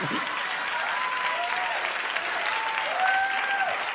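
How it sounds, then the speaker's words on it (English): Comedy club audience applause fills the room with steady clapping at a moderate level, mixed with whoops and cheers from the crowd throughout. "judging by your applause and your weird Arsenio Hall whoop that you just did"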